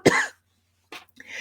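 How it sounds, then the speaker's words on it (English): A person clears their throat close to the microphone with one harsh burst, then makes a couple of softer follow-up rasps after a short pause. "excuse me while I clear my throat"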